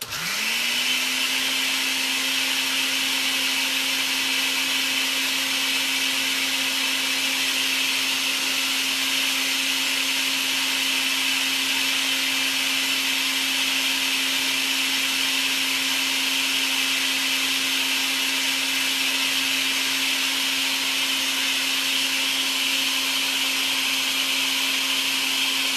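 A blender runs steadily at a constant pitch for the whole stretch, whirring while it emulsifies ranch dressing with added oil; loud and close, with no talking.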